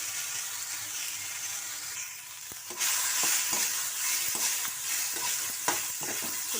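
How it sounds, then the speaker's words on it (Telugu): Coconut pieces for kobbari pachadi sizzling steadily in hot oil in a pan, with a loud hiss that swells as more pieces go in. A spoon scrapes and clicks against the pan in repeated strokes as they are stirred. "ఇందులోనే కొబ్బరి ముక్కలు వేసేసుకుంటున్నాను."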